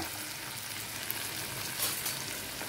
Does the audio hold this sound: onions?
yes